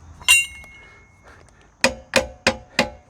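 A pipe wrench clangs against a motorcycle sprocket during a chain and sprocket swap on a 1990 LT250S, one sharp clank followed after a pause by four quick metallic strikes, close and alone.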